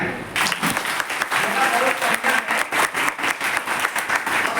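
Applause at a college event for National Deworming Day, a dense burst of hand clapping from a crowd that starts abruptly and continues steadily and loudly, with some voices mixed in.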